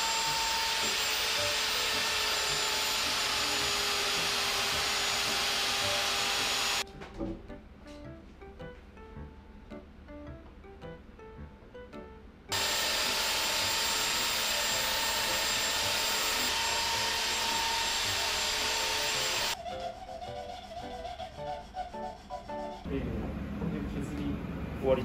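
A power tool shaves the felt hammers of a grand piano flat during an overhaul, whining loudly in two long sustained runs separated by a quieter pause, then giving way to softer handling noises.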